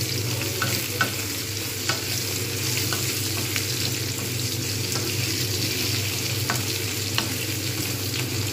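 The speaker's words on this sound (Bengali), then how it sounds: "ভালো করে কিন্তু আলুটাকে ভাজতে হবে" Potatoes fry in oil with a steady broadband sizzle, and occasional sharp clicks of stirring punctuate it throughout; the sound is close and continuous with no voices.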